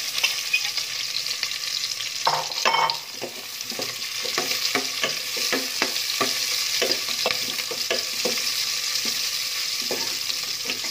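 Kikiam fry in hot oil in a pan with a steady bright sizzle, while a utensil stirs and scrapes in repeated knocks, close and continuous throughout.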